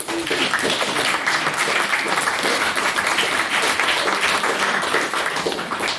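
Steady, full applause from an audience at a debate runs for several seconds at even loudness with no pauses, then fades slightly at the very end.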